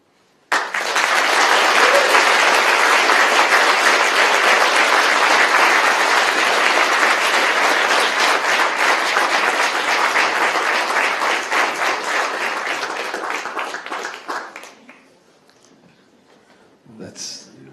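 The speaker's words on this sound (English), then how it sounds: "That's a huge round of applause for Jonathan." At the end of a TEDx talk in Rotterdam, a crowd breaks into loud, sustained applause that holds strong for about fourteen seconds before fading quickly, leaving near silence and a brief faint sound at the close.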